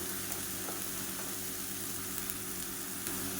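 A mint and coriander paste sautéing in hot oil for a lunch box dish, giving a steady, close sizzle with faint stirring that runs without a break.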